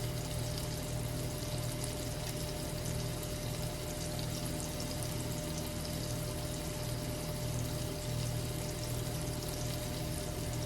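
Liquid pouring steadily during home cooking, a continuous close watery rush with a faint hum beneath, running unbroken for about ten seconds.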